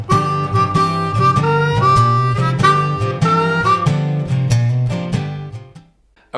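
A blues shuffle lick played on a C harmonica rings out alone, loud and close, with repeated, bouncing notes in a steady swing rhythm before it fades and stops just before the end.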